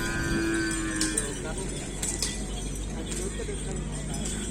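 Racing bulls at a Madurese kerapan sapi bull race make lowing moos amid a loud, dense crowd of talking people and clinking, with steady background noise throughout.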